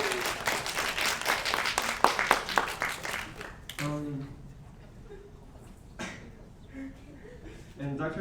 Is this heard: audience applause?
yes